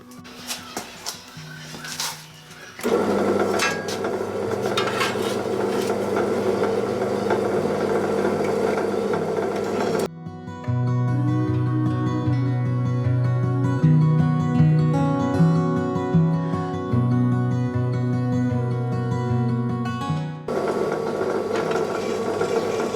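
A drill in a drill stand boring metal whines and drones close by, its pitch changing as it runs under load for a long stretch, then it settles back to a rougher hum.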